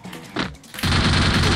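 Video game gunfire: a brief crack, a short pause, then a dense, loud burst of rapid automatic fire that continues to the end.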